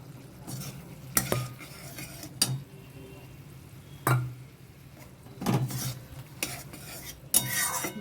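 A metal spoon scrapes and clinks against a pot while fried pointed gourd is stirred into a simmering curry, with irregular knocks over a soft steady bubbling background.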